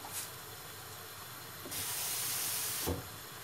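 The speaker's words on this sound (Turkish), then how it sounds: "Şimdi birazcık da su koyacağım." Water poured into a hot pan of spinach and mushrooms sends up a sharp hiss of steam partway through that keeps sizzling steadily, loud and close, then cuts off with a small clatter near the end.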